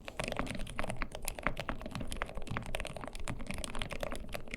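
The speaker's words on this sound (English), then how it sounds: "Here's a sound test of the Gateron Gecko silent linear switches, our top-selling silent linear." Rapid, continuous typing on a mechanical keyboard with Gateron Gecko silent linear switches, soft, muted keystrokes, a dense patter of dampened clicks close by and without speech.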